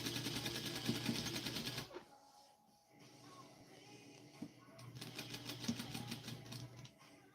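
A sewing machine stitches fabric for a Vogue 1737 garment in a rapid, even whir, stopping for a quiet pause with small handling sounds before starting up again.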